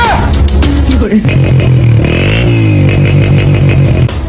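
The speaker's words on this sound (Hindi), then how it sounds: "मैं आपकी मोटरसाइकिल लेकर जा रहा हूँ।" A motorcycle engine revs loudly and steadily close by, its pitch rising and shifting as it pulls away, with voices briefly heard at the start.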